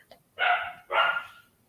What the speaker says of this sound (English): So that was Rocky barking